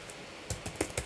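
Keys on a computer keyboard are tapped in a short, quiet burst of several clicks spread irregularly over about half a second, with no talk.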